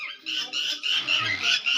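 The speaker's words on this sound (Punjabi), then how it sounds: "ਪੰਛੀ ਚਹਿਚਹਾ ਰਹੇ ਨੇ" Birds, including a red-wattled lapwing, chirp and squawk in short, repeated bursts, fairly close, with brief gaps between calls, on a farm in Punjab.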